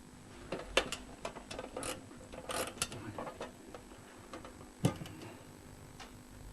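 A wound-up clock ticks faintly and steadily in a quiet room, its light mechanical ticks sounding alone with no talk over them.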